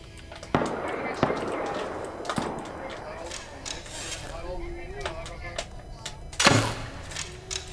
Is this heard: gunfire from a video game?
yes